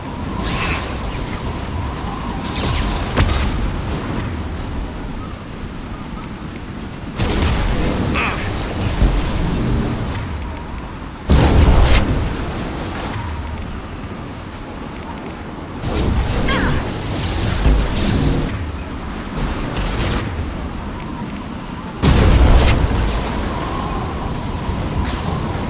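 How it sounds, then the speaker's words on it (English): Flashbang grenades going off in Mass Effect 2 combat, several loud bursts with whooshing booms spaced every few seconds over a steady game soundscape. "Watch out, flashbangs!"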